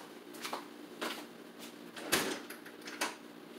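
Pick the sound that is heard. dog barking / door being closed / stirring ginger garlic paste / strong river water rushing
door being closed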